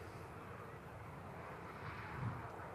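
A departing airliner on the runway at Manchester Airport gives a steady, distant roar of jet engines mixed with wind rumble, holding fairly even throughout.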